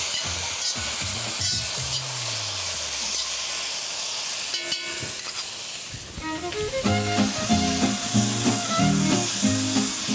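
Marinated prawns frying with onions in a pan: a dense steady sizzle, then a sharp hissing burst as they go in, followed by repeated stirring clinks and scrapes, close up without voices.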